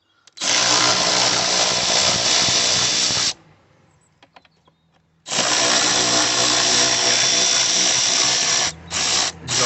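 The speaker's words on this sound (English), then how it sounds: "get our electric ratchet on here again, it's going to make it easier for us" An electric ratchet spins out T25 Torx screws from the airbox of a Ford Fiesta EcoBoost. It makes a loud, close, steady whir lasting about three seconds, stops briefly, then runs again with a few short stuttering bursts at the end.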